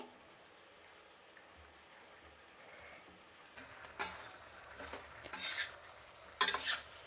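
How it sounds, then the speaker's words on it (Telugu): Vegetables for sambar fry in a pan, a faint soft sizzle at first, then a few louder scraping stirs and clinks of the utensil against the pan in short bursts. "కూరగాయలు అనేది ఇలా మధ్య మధ్యలో కలుపుతూ ఒక 5 నిమిషాలు వేయించుకోవాలండి"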